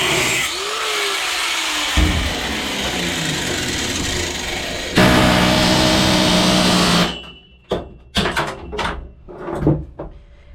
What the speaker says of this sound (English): So here we are now with an air chisel.